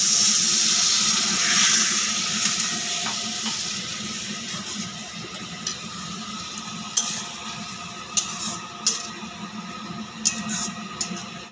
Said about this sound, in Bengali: দিয়ে দিলাম পরিমাণ মতন জল।